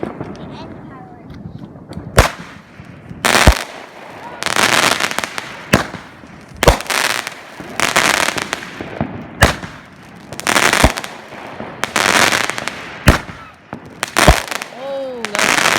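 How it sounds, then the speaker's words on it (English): A nine-shot firework cake finale at a Fourth of July display fires a rapid series of loud, sharp bursts with crackling tails, each shot booming close by, with people talking and exclaiming between the blasts. "It's a 9 shot, so it's pretty cool. There you go. Big finale. Big end firework."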